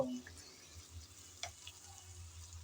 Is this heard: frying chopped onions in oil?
yes